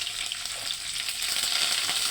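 Tamarind, curry leaves, dried red chilies and chana dal sizzle and crackle in hot oil in a pan, a steady bright frying hiss with small pops, heard close and alone.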